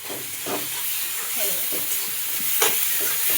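Onion and tomato sautéing with salt for sprouted moong usal, a continuous close sizzle with occasional scraping stirs of a spatula against the pan, no voices.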